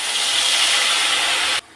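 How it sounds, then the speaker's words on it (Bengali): A mustard and poppy seed paste with dried chilli sizzles loudly in hot frying oil tempered with nigella seeds. The steady, close hiss cuts off abruptly near the end. "পেস্টটা তেলের মধ্যে দিয়ে দিলাম।"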